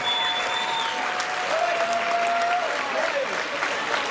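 Audience applause after a five-round amateur boxing bout, a dense steady clapping from a crowd that carries through the whole stretch, with faint whistles and cheers rising over it.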